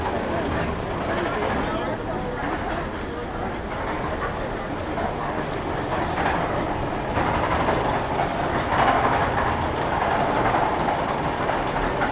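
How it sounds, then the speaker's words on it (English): A Snowdon Mountain Railway train rumbles and rolls steadily as it pulls in nearby, a continuous heavy clatter with voices faintly underneath. "The train just pulled in, so hopefully we'll be boarding soon."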